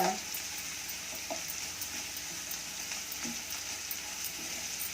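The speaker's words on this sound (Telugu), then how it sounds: "అల్లం వెల్లుల్లి పేస్ట్ వేసి ఒకసారి తిప్పి" Ginger garlic paste sizzling steadily in a hot pan for lemon rice, a continuous soft frying hiss with faint scrapes as it is stirred.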